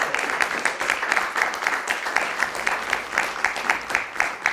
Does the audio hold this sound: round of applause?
yes